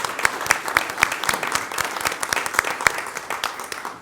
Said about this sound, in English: yes, you definitely deserve applause.